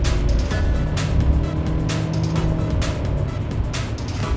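Turbocharged car driving and turning through corners, its engine droning steadily up close with repeated whooshing bursts, no talk over it.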